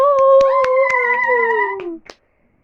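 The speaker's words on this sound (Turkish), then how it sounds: "Alkışlayın." Children and cousins clap their hands in a quick, steady rhythm, about four claps a second, while a drawn-out 'ooo' voice sings over them before both stop abruptly.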